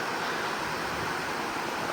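River water pours over a dam on the Kalobhar river in Umrala after rain, a steady broad rushing roar, even and continuous with no voices.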